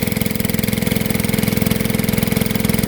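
The gasoline engine on a dredge pump runs steadily close by, a loud rapid chugging pulse with a metallic clatter, and no voices break through.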